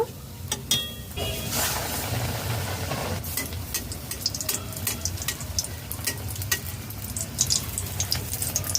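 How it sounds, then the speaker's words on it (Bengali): Potato filling frying in a pan over a low to medium flame, a continuous close sizzle with scattered crackles and light scraping of a spatula running through. "লো টু মিডিয়াম ফ্লেমে আলুর পুর ভেজে নিয়েছি"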